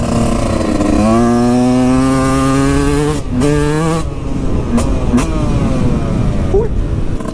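A Husqvarna CR 125 two-stroke motorcycle engine runs loud and close as it is ridden, with the pitch rising and falling through throttle changes and a brief drop-off before it picks up again.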